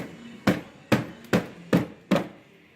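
A hand strikes a GMC Terrain tail light assembly to free its clip. Five hard, close knocks land in an even rhythm, with short quiet gaps between them.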